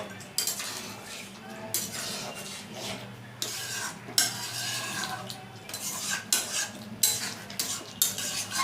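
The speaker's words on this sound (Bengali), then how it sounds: "মিশিয়ে নেব আর একটু কষিয়ে নেব" Green chicken being stirred and fried in a pan, with a utensil scraping and clinking against the metal in steady, irregular strokes over a soft sizzle, close up and with no talking.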